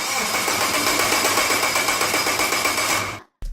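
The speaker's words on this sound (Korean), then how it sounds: "엔진을 크랭킹 시켜서 엔진의 작동 상태를 확인을 합니다" Car engine cranking during a fuel system check, a continuous buzzing mechanical whir held steady for about three seconds before cutting off abruptly, close and loud with no voices.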